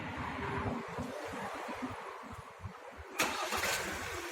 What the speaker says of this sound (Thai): รถสตาร์ทติดแล้วนะครับ